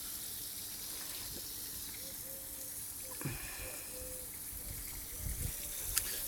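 Water running from an outdoor garden shower, a soft continuous spray and gush heard at moderate distance, fairly quiet, with a few faint knocks and a brief sharper splash near the end.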